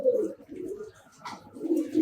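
Soft, low coos from racing and tumbler pigeons at a loft repeat in murmuring bursts, fairly close, with faint rustling between them and no talking.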